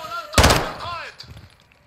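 A single sharp gunshot in the shooter game Call of Duty: Modern Warfare II (2022) on PS5, loud and close, followed by a fading echo and faint ringing tones from a flashbang blinding.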